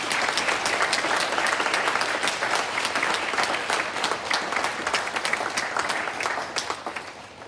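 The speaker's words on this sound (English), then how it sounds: "Can everyone please give these boys and girls a round of applause." A school audience at a Stage 3 presentation day gives students a round of applause, with many hands clapping in a loud, continuous patter that holds steady and tapers slightly at the end.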